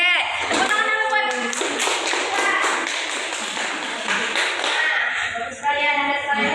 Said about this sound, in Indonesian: Oke, tepuk tangan dulu Wan.